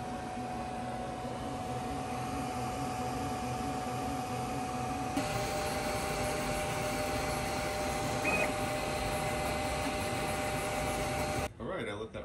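A QIDI Q1 Pro 3D printer runs a print job with a steady, continuous whir and hum of motors and fans. The sound holds even throughout, with a few brief tonal beeps, and stops abruptly near the end.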